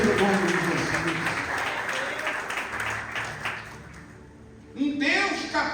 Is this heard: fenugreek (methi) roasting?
no